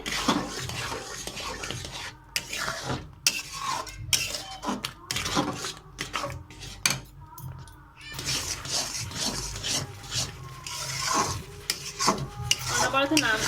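A chickpea-lentil sandesh mixture with ghee being stirred and scraped in a kadai, rhythmic spoon strokes against the pan, sometimes pausing, with faint background sizzle.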